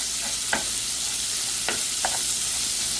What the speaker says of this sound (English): Just started to brown out some sausages.